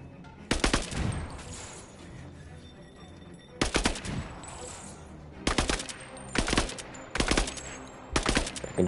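Repeated bursts of automatic gunfire in the Avengers video game, five sharp loud volleys separated by quieter gaps of ambient game sound.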